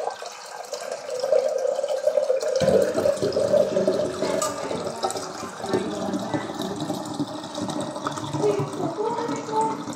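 Water runs into a basin for soaking, starting abruptly and continuing as a steady close splashing fill with no talking.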